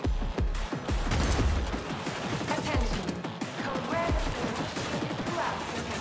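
Rapid gunfire in Cyberpunk 2077, a steady stream of sharp repeated shots in close succession, loud and near, running throughout with occasional heavier impacts.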